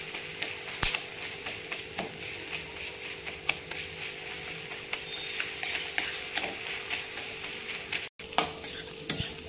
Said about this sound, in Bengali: এবার আমি খুন্তি দিয়ে ভেঙে ভেঙে ভুজিয়া বানিয়ে নেব ডিমটা।